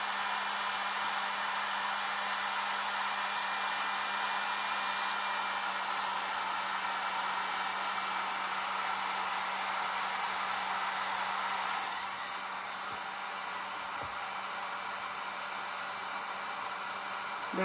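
A hair dryer blows steadily and loudly on a baking soda snowman craft made from dollar store supplies, a constant airy roar that drops slightly in level partway through.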